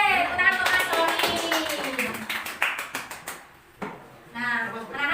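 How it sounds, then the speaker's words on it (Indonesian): A school class claps for a pupil, a quick burst of rhythmic hand claps mixed with children's voices, fading into a teacher talking. "tepuk tangan untuk Mas Sony"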